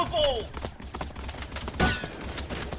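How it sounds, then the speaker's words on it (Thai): Rapid bursts of M4 rifle fire from the mobile shooter Xshot (Bullet Angel), crackling in quick clusters with a sharp peak near the end, mixed with busy game effects and a brief swooping tone. "เสียง M4 นี่มันมาก"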